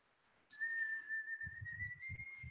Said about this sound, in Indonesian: Saudara bisa melakukan kegiatan bersiul.